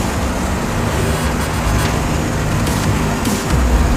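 A bus speeds flat out along a winding road on the Labuan to Kalideres route, its engine droning loud and steady over constant road roar, with a few brief shifts in pitch near the end.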